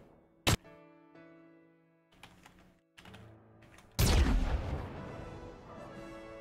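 The cut Guardian Sentinel vehicle turret in a modded Halo 3 Forge fires a brief sharp shot, then after a pause a heavy booming blast that rumbles and slowly fades.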